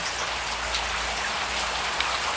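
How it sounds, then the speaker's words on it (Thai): Heavy rain pours down steadily with a dense, even wash of drops hitting surfaces, continuous and fairly loud throughout with no voices. "ฝนตกหนักทั้งวันนะคะทุกคน"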